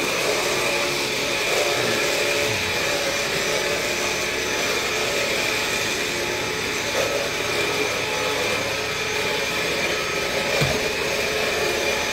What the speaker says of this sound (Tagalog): Kaya hindi ka pwedeng hindi mag-vacuum araw-araw.